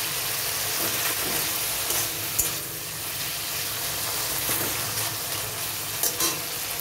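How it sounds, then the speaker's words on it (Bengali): Small prawns fry in hot oil in a wok, giving a steady, loud sizzling hiss with occasional stirring scrapes close by and no talking. "কড়াই গরম হয়ে গেছে, তেল দিলাম, চিংড়ি মাছটা ভেজে তুলবো।"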